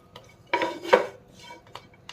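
A spoon scrapes and taps against a pan while stirring dates in ghee, in a few short bursts, with quieter clinks in between.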